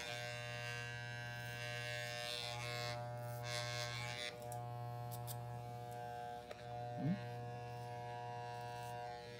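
Electric hair clippers buzz steadily at close range with a constant hum, cutting hair during a haircut and briefly changing tone as the blade is adjusted.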